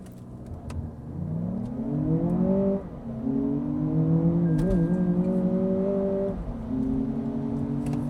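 A Lexus RX500h hybrid SUV's engine revs upward as it accelerates, with rising pitch that drops at a couple of gear changes, then climbs again, close and loud.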